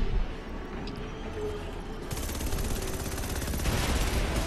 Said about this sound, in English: you shoot missiles, but then you shoot your machine gun a bunch